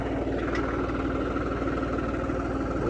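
A 3630 tractor engine runs close by, putting out a continuous, even rumble with no pauses or changes in pitch.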